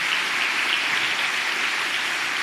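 Crowd at a church gathering applauding a guest named Thiago, a continuous, even wash of many hands clapping, steady and moderately loud for a couple of seconds without speech.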